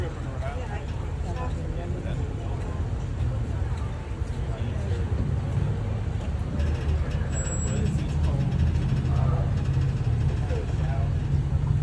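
A tour trolley on the historic streets of St. Augustine pulls into the curb. A loud, close engine rumbles steadily, with road noise and a brief high hiss near the middle.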